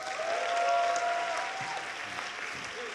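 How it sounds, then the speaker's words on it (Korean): A church congregation claps together at a Sunday worship service, a dense steady round of applause that swells briefly and then tapers slightly, with a few faint voices mixed in. "박수 한번 칩시다"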